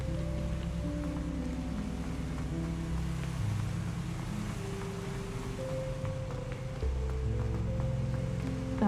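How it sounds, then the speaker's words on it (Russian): Waterfall in the video game Hogwarts Legacy, a steady rushing water wash beneath soft tonal background music, no talk. "И этот водопад мне очень сильно нравится."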